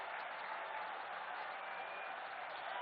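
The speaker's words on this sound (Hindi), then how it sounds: "आप सब जोरदार तालियों से अपने भावनाओं को मंच तक पहुंचाएं।" A large audience at a Kushinagar medical college foundation-stone ceremony for the Prime Minister applauds in a dense, steady, continuous wash of clapping that holds at an even level throughout.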